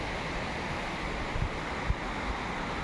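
Water near a hillside hut, heard as a steady broadband wash of surf and wind with a couple of faint thumps, continuous and without talk.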